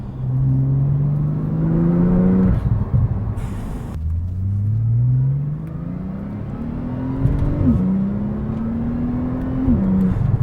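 A sports car in sport mode accelerates hard through the gears, a loud exhaust drone with some turbo noise rising in pitch, then dropping abruptly at each quick upshift before climbing again.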